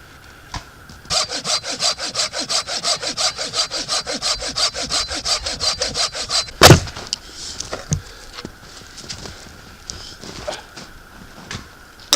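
A thin-bladed Silky pole saw cuts through hard wood in the forest, with steady, rhythmic rasping strokes at a brisk pace, then a sharp crack and scattered knocks and rustling as the cut finishes.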